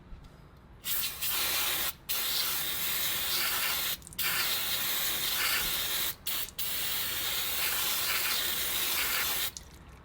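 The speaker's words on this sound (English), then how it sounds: "Just going to give this a bit of a spray with some degreaser to get rid of the oil" Long hissing sprays from an aerosol can of degreaser onto an oily 2011 Subaru WRX transmission, several bursts separated by brief pauses, loud and close.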